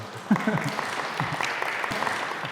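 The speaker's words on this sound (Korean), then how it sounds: "이렇게 박수 한번 쳐주셔도 돼요" Audience applause at a Catholic Holy Spirit seminar, a steady wash of clapping from a large congregation that stays moderately loud throughout, with a few low sounds like a voice or movement near the start.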